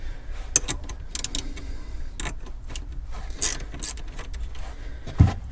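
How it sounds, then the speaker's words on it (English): A negative terminal comes off a car battery with close, scattered metallic clicks, ratchet-like ticks and small scraping taps, ending with a firmer clunk. "I'm going to remove the negative battery terminal right here."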